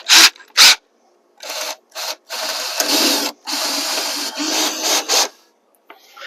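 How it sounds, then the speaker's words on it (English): A power drill whirs in short bursts pre-drilling holes, then runs in longer stretches as wood screws are driven into a wooden potting bench, with brief pauses between. "I'm just going to pre-drill in some holes and insert some wood screws."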